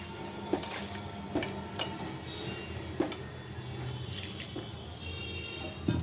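Water poured from a vessel onto grated potatoes in a kitchen bowl, a steady close splashing and trickling with a few sharper clinks of the container, no voices.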